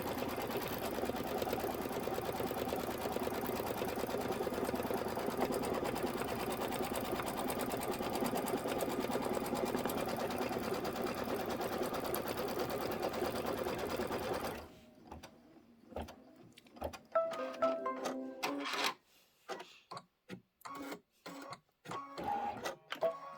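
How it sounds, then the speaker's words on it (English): A Kimberbell embroidery machine runs steadily through a quilting stitch pattern, a dense continuous mechanical whir that breaks into intermittent stop-start bursts in the latter part. "after it does this, we'll hit start, and we'll let it do the quilting as well"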